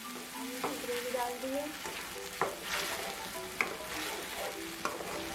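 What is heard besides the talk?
gravy added to fried onion and garlic, sizzling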